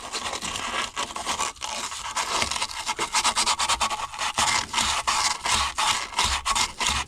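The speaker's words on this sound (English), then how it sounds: "now what I'm going to do is take some 220 wet dry sandpaper" Sheets of 220-grit wet-dry sandpaper rub and scrape inside a hole in a 1970s Mercruiser 165 hp boat engine block, in quick rhythmic strokes, close and fairly loud, with no talk.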